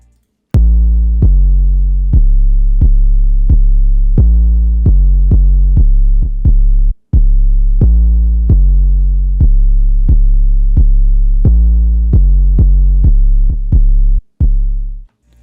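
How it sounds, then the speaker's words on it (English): Long booming Ego 808 bass notes from the 2K Stash kit play alone in a steady beat-like pattern, each note sustaining and decaying before the next, with two short gaps of silence. "the Ego 808 from my 2K Stash kit"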